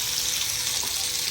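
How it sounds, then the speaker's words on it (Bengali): Potato, radish and beans frying in oil, giving a steady, close hiss of sizzling with a faint watery bubbling underneath, continuous and even throughout with no voices. "এখানে এটা আলু, মূলো আর শিম ভাজা করে নিচ্ছে।"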